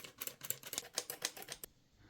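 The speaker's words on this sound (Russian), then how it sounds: "Всю муку просеиваем в миску." Flour being sifted into a bowl for a brioche Easter bread, a quick run of soft rhythmic rattling taps from the sieve, close and fairly faint, stopping abruptly.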